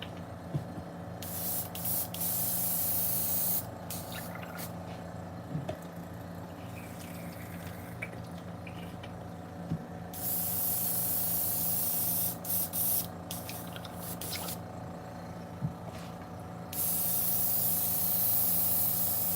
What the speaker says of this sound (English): Let me clean the airbrush real quick.